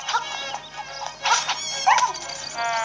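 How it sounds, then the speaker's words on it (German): A dog character in Zelda: Link's Awakening barks in a few short bursts, loud and near, with game music running steadily underneath. "Der Hund greift uns an, der Fuchs."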